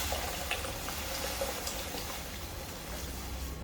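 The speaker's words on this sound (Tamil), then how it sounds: "தண்ணி நல்லா இதெல்லாம் மூங்குற அளவுக்கு விட்டுருக்கணும்." Water is poured over rajma beans in a pressure cooker with a steady, soft splashing rush. It stays faint and continuous for a few seconds with no talking.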